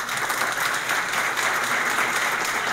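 A seated audience at a metro chamber of commerce breakfast gives a round of applause to staff members, a steady, dense wash of many hands clapping at moderate distance with no talk over it.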